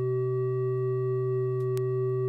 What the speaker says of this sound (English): That sort of beating sound that's going off.